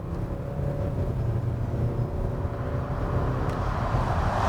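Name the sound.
Hyundai Santa Fe TM 2.2 diesel driving off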